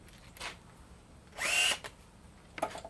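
A power drill with a 1/4-inch bit backs screws out of a cast aluminum vacuum motor, giving a few short whirring bursts with one louder, longer spin in the middle and quiet gaps between.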